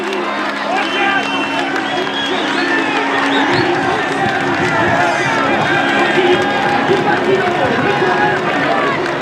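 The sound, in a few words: crowd cheering at the Fleche Wallonne cycling race finish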